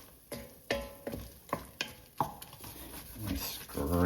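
Onions cooking in a pan are stirred and scraped in about five quick, regular strokes, each a close scrape, before a softer sizzle and shuffling take over near the end.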